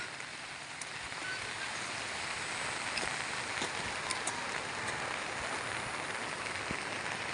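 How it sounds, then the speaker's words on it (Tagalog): Steady, dense hiss of heavy rain pouring down with no pauses, loud and close throughout, a few sharper drops standing out. "sobrang lakas ng ulan"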